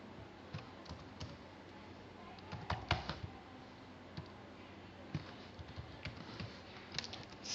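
Faint, close keystrokes on a computer keyboard while HTML code is typed, coming in irregular bursts of clicks with short pauses between them.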